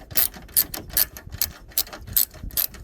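A ratchet wrench loosens the terminal nut on the battery of a 2013 Toyota Sienna, giving repeated quick clicking bursts in an uneven rhythm, close and clear with no voices.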